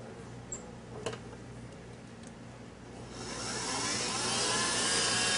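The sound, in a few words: whipping egg yolks into sugar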